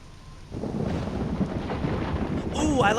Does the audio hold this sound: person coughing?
no